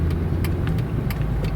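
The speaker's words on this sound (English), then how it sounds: "when you nail it, you get this fury from under the hood that's just, you know, very nicely piped into the cabin" Chrysler 300 SRT8 engine roaring as the car accelerates hard, a deep continuous growl heard from inside the cabin, loud and steady for a moment with no talking.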